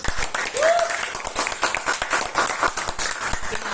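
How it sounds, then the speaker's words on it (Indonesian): Students in a classroom clapping together, a steady patter of applause lasting a few seconds, moderately loud with some voices mixed in. "Boleh tepuk tangan dulu"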